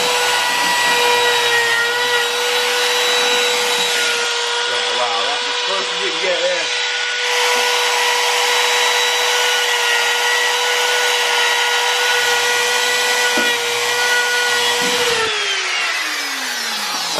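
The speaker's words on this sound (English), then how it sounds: "so now I'm ready to try to route this off" A wood router cutting an ebony fingerboard off a bass guitar neck, giving a loud, steady high-pitched whine that holds for most of the span, with brief load changes as it bites, then winds down near the end.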